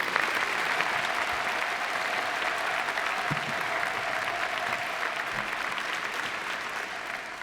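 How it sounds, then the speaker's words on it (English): A large audience applauds at a university investiture ceremony, honoring the faculty with steady, dense clapping that fills the hall and holds evenly throughout before tapering slightly at the end. "Give them a round of applause."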